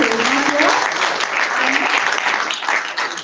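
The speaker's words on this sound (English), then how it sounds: "just we give maybe a loud round of applause for him." Sustained audience applause at an award ceremony honouring a doctor, dense steady clapping filling the whole stretch, fairly loud and near, with faint voices mixed underneath.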